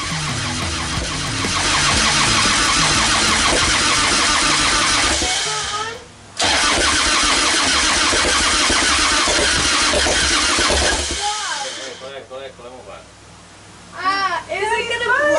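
A custom Harley-Davidson motorcycle engine cranks and runs loud and rough after a battery swap from a donor bike, cutting out briefly and then roaring again before dropping off, with people talking, including a child, near the end.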